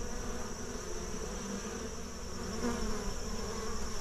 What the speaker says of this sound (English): there's a whole bunch of bees in there